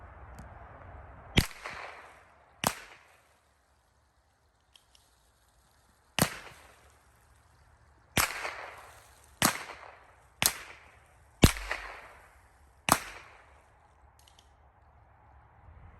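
.22 LR rifle shots fired in a quick speed round at water jugs and a can of spam, with about nine sharp, loud cracks at irregular intervals, each trailing a brief echo outdoors.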